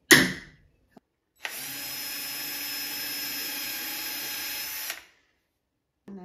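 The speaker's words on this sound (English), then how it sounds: "Just a little mark there tells my drill bit that's where we're drilling." A power drill bores into a wooden dresser, running at a steady whine for about three and a half seconds after a brief click, then stopping.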